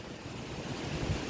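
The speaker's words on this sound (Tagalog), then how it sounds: "Yan po yung hangin." Steady strong typhoon wind roars and buffets the microphone, a dense low rushing noise with no talking.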